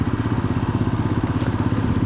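A noisy, unlubricated motorcycle chain while riding, a rapid rhythmic low clatter over steady engine drone, close and continuous.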